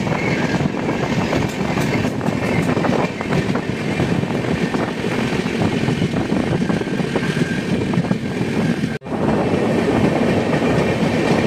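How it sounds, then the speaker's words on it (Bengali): A train runs along the rails past Panikhaiti railway station in Assam, heard from on board as a steady, loud rumble with rhythmic clatter of wheels, briefly dropping out for a moment before resuming. "ট্রেন এখন পানিখাইতি রেলওয়ে স্টেশন ক্রস করছে।"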